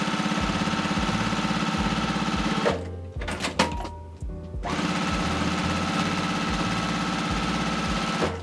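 A sewing machine stitches down both sides of fabric for a bow, running in a steady rapid whir, pausing briefly midway, then resuming loud and close.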